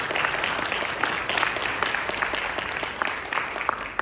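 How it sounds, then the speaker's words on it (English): Audience applause following a panelist's remarks at an economic outlook forum in Indonesia, a dense, steady wash of many hands clapping at moderate volume that holds evenly for the full few seconds with no voices over it. "A round of applause,"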